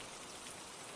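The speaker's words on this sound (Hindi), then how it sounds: "तेज बारिश ने मेरे आगे का सफर रोक दिया" Heavy rain pours in a dense, unbroken hiss of drops striking surfaces, steady and moderately quiet throughout the brief stretch.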